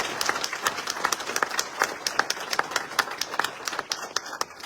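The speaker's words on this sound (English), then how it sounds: "How about a round of applause for that?" Audience clapping at a military general's retirement ceremony, a steady patter of many hands in a hall, fairly even throughout and fading slightly at the end.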